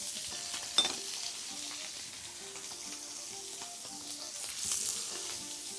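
Tomato soup being mashed by hand in a pot, with a soft, continuous squishy stirring texture and a faint sizzle-like hiss running throughout; no talking.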